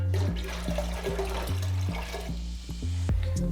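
Water, 700 ml, poured into a home-brew vessel for hydrometer calibration, a steady close splashing pour with several abrupt low thuds and shifts in flow, heard alone.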